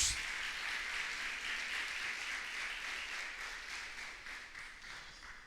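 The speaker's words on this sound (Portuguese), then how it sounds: "Dê um glória a Deus, dê um aleluia e aplauda ao Senhor Jesus" A church congregation applauding during a sermon, steady sustained clapping from a crowd throughout, moderately loud and even, gradually easing slightly toward the end with no speech over it.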